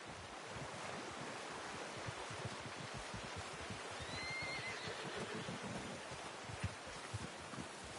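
A horse whinnies once in the Red Dead Redemption video game, a faint rising call over a steady rush of wind and surf-like ambience with soft hoof clops beneath.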